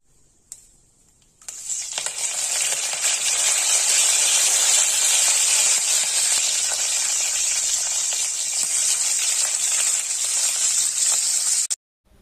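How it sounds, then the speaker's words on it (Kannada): Two spoons of hot oil tempering mustard seeds, cashews, green chilies and curry leaves for a moong dal khichdi: after a brief initial crackle, a loud, steady, close sizzle runs unbroken for about ten seconds, then cuts off abruptly. "ಅದಕ್ಕೆ ಒಂದು 2 ಸ್ಪೂನಷ್ಟು ಆಯಿಲ್ ಮತ್ತು ಸಾಸಿವೆ, ಗೋಡಂಬಿ, ಹಸಿಮೆಣಸಿನಕಾಯಿ, ಕರಿಬೇವಿನ ಸೊಪ್ಪು ಹಾಕಿ ಚೆನ್ನಾಗಿ ನಾವು ಇದನ್ನು ಫ್ರೈ ಮಾಡಬೇಕಾಗತ್ತೆ"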